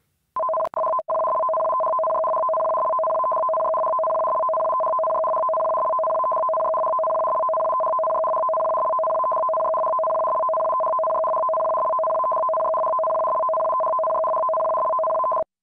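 A steady two-tone electronic alarm from Japan's J-Alert emergency warning system drones continuously at a loud, unchanging level, preceded by a few brief clicks at the start.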